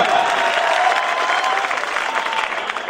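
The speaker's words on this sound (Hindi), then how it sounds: "जोरदार तालियों से" At a mushaira poetry gathering, listeners give loud, close applause, a thick continuous roar of clapping with a hint of cheering that eases slightly toward the end.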